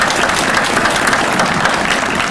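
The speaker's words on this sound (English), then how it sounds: "Let's give him another big round of applause, ladies and gentlemen." A Veteran's Day presentation audience breaks into a loud, sustained round of applause, thick and continuous clapping throughout.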